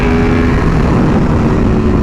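An Aprilia Tuono V4R motorcycle engine roars loud and steady at speed, a constant dense drone with wind rush and no talk.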